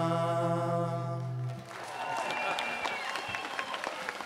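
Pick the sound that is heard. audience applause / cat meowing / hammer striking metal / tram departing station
audience applause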